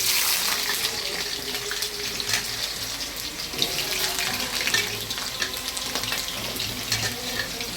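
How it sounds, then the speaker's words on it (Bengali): Potatoes sizzle loudly in hot oil with mutton fat and bay leaves, a dense, steady close frying hiss with spitting crackles throughout and no voices. "দিয়ে এবার এই আলুটা ছেড়ে দিচ্ছি"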